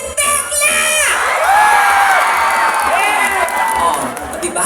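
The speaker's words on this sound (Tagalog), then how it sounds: "Magpalakpakan po na may kasamang sigawan na nagsasabing pangit si Tekla!" A festive fiesta crowd applauds and shouts together, a loud continuous mass of cheering, whoops and children's yells that swells and holds for several seconds, with voices rising in excited bursts throughout.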